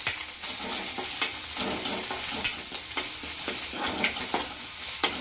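Curd with turmeric and coriander is stirred in an oiled pan for kadhi, giving a steady hissing sizzle with regular scraping strokes and small clicks of the spoon, close up and without talk.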